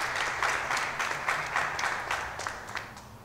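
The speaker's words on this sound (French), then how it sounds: "Applaudissements!" Applause from an audience at an awards ceremony, steady rapid clapping of moderate loudness that tapers off slightly toward the end, with no voices over it.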